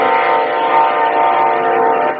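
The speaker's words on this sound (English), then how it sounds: "Sorry for the train in my background." A train passes steadily in the background with a loud, sustained rumble and horn-like tonal drone, heard alone without talk.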